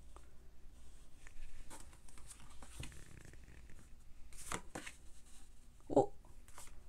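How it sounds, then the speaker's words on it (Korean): A tarot card is drawn from the deck and flipped over, giving soft papery shuffling and rustling that stay quiet and close, with one brief sharper flick near the end and no speech. "자, 3번 카드 열어볼게요."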